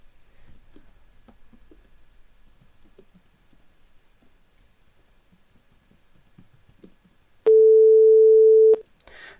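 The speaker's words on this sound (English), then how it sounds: "So here is concert A." A steady synthesized concert A sine tone, generated in Haskell, switches on abruptly and holds loud and unwavering for just over a second before cutting off, following a stretch of near silence with faint clicks.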